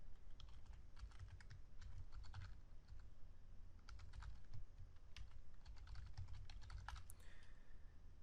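Bursts of rapid key presses clack on a computer keyboard as code is typed, quiet and close, in short irregular runs separated by brief pauses.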